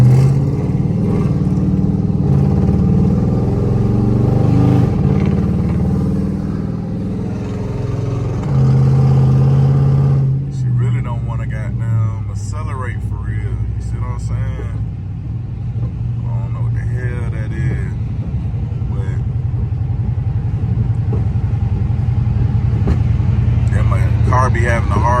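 A Dodge SRT8 with the 392 V8 runs rough with a misfire, its fouled plugs and faulty cylinder-4 coil pack leaving a loud, uneven engine rumble throughout while someone talks over it.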